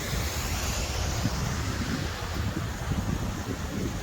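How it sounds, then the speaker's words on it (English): A waterfall in a Scottish forest on a winter day sends out a steady, unbroken rushing roar of falling water, with no voices over it. "That's a lovely waterfall though."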